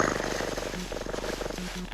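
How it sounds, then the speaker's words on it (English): A cat purrs in the video game Voices of the Void, a close, steady rhythmic rumbling purr that continues throughout with no talking. "Cat noises are relaxing."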